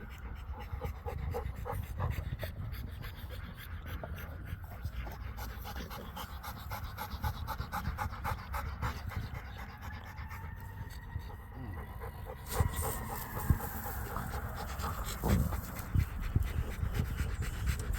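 Rottweilers pant rapidly and rhythmically close by, a quick steady breathy pulse running throughout, with soft human talk in the background near the end.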